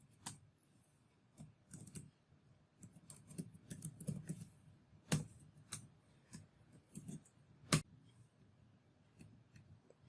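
Computer keyboard typing during document data entry, a steady run of light plastic key clicks with a few sharper, louder taps standing out, close and alone with no talk.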